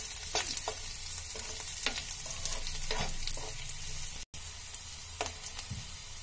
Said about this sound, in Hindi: ये प्याज भून गया है